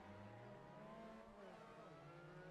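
A Mazda MX-5 race car holds a steady, droning rev at a standing race start at Donington, its engine note rising slightly and dipping, heard from inside the car with no talk.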